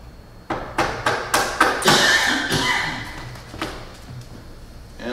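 Wood is split along the grain with hand tools, a run of sharp mallet or hammer strikes in quick succession, then a sustained cracking and tearing as the piece gives way, followed by a few lighter taps.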